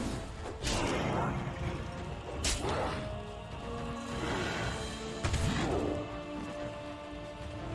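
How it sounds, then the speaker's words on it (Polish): Combat in the Dragon Age: Origins video game, a genlock beating a creature: repeated heavy smashing blows and thuds over a dense, busy layer of game noise and music, fairly loud throughout. "Jakiś jeden genlok go tłucze,"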